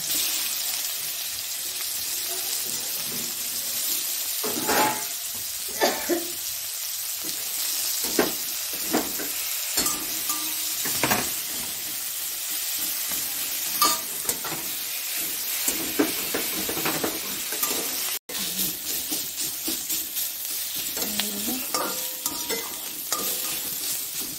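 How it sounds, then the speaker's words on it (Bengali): Sliced onions fry in a hot pan for a chicken bhorta, after garlic has been browned and removed, giving a steady close sizzle with repeated stirring scrapes and clinks throughout, no voices. "এবার পেঁয়াজ দিয়ে দেব"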